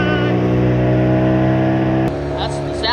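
Dinghy outboard motor on the water revving steadily with a strong buzzing drone, then abruptly dropping in pitch near the end; people talk over it.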